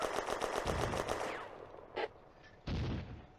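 Rapid bursts of gunfire in a World War II Eastern Front battle game, with a German Granatwerfer mortar crew firing nearby, a dense fast volley followed by two separate sharp reports.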